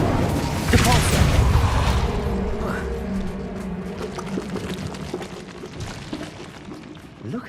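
A Depulso force spell cast in the Hogwarts Legacy video game, a loud rushing burst up front that trails into a long rumbling, clattering tail with faint mechanical noises fading out.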